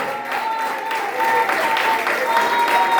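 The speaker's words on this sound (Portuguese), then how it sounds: "Eu quero pedir para você dar a melhor salva de palmas ao Senhor." A church congregation gives a hearty round of applause, a continuous crisp clapping that grows a little louder partway through, with a faint steady tone and some crowd murmur underneath.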